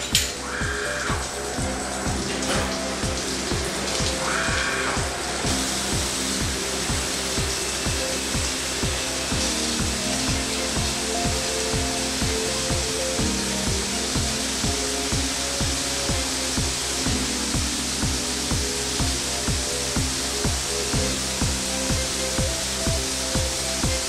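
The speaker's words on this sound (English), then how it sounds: "let's take a look at our two-axis NC helical broaching machine, HX-T50" A Nachi HX-T50 two-axis NC helical broaching machine running steadily, with a loud continuous mechanical whine and hum under a regular pulsing beat, alone and close.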